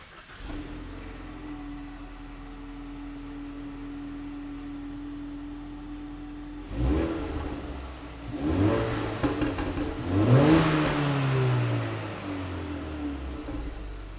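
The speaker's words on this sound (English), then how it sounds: "we're going to give you some clips of the stock exhaust" Stock exhaust on a 2018-2023 Ford Mustang EcoBoost idling steadily, then revved hard several times, each rev rising and falling loudly close by, with no talk.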